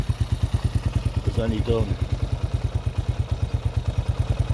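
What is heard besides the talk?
1978 Honda XL250 motorcycle engine running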